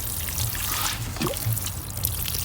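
Water pours steadily onto young tomato plants grown along a fence outdoors, a continuous close splashing trickle with faint background noise and no talk.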